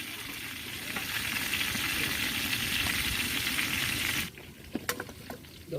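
Chopped onion, cardamom and cinnamon fry in hot oil for a beef curry, making a loud, dense sizzle that runs for several seconds and then cuts off, followed by a few light clinks.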